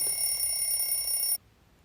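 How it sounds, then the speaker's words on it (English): A steady electronic alarm tone rings loudly and continuously for over a second, then cuts off abruptly into near silence. "Alarm sound."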